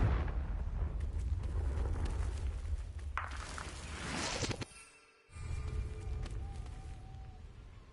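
The Confringo explosive spell blast in Hogwarts Legacy, a loud sustained roaring rush that swells to a whooshing burst, then cuts briefly to near silence before a lower rumbling ambience returns.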